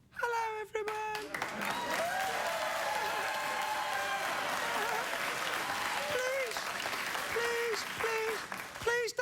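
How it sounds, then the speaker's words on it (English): Studio audience on a late-night talk show breaks into sustained loud applause with cheering, holding steady for several seconds, while a voice speaks over the opening and closing moments. "Please don't clap"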